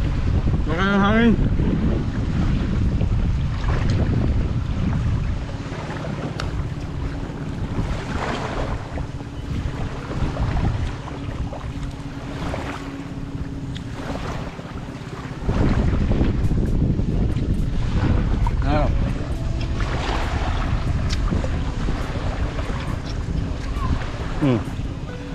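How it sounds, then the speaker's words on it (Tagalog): A small boat moves across open sea near Burias Island, its engine droning steadily under loud wind buffeting and splashing water, the roar dipping briefly before surging back, with a short burst of voice early on. "Bangka."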